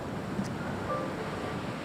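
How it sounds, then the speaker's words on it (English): Ocean surf breaking at Rehoboth Beach, Delaware, near an inlet on a breezy morning: a steady, broad wash of waves with wind noise across the microphone, continuous and fairly close, no voices. "The breeze gives strong energy to the waves, pushing my curious spirit to study its force when crashing into the inlet"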